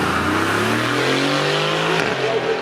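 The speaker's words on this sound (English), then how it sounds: "The nose of that car points to the Spyder acceleration and sniffing the ground, looking for traction on the brakes. 4 litre V8 twin turbo." A 4-litre twin-turbo V8 Spyder supercar accelerates hard at a supercar event, its engine note climbing steadily in pitch over a couple of seconds before easing off, loud and close, with some background chatter.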